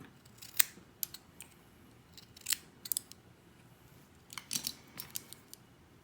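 Small scissors snipping cotton wick for a Chalice MTL RTA vape atomizer, several crisp close clicks and cuts spaced irregularly over a quiet background, some in quick pairs.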